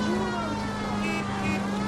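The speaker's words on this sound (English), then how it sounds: "Get that siren on and just zoom through all this." A police car siren wails steadily in the video game L.A. Noire, a continuous tone over the hum of the in-game engine, with no talking.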